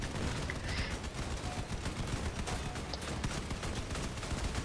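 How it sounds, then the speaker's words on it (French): Steady, continuous automatic gunfire in a video game raid, fired while moving, stays loud and dense throughout with no pauses and no talking. "quand on tire en se déplaçant, on perd la précision"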